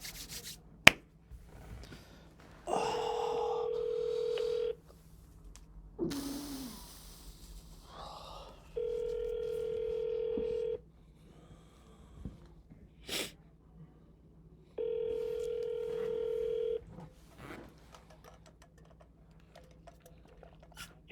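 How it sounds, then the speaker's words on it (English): A phone call is dialed and rings out: repeated steady ringback tones in three separate bursts of about two seconds each, quiet and close, with small handling clicks between them and no talk. "I'm going to call her. Calling."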